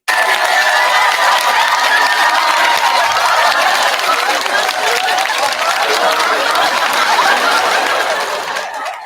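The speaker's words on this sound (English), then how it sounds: "Round of applause for them," A live audience at a podcast taping breaks into loud, sustained applause mixed with cheers and some laughter. The dense clapping holds steady for several seconds, then begins to fade at the end.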